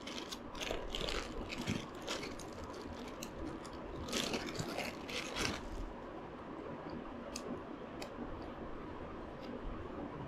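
A plastic-and-metal GoPro handlebar clamp mount for a bicycle is handled up close, giving a dense run of small clicks, rattles and ratcheting snaps, busiest in the first six seconds and then fading to quieter fiddling.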